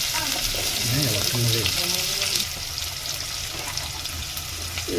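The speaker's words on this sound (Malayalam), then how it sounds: "ഇനി ചൂടായിരുന്ന് സവാള ഇട്ട് കൊടുക്കാം ഇതൊന്ന് നല്ലവണ്ണം വഴറ്റി വന്നതിന് ശേഷം" Onions sauté in hot oil for a tomato rice, giving a steady loud frying hiss with stirring scrapes, while a faint low tonal sound drifts through the first half.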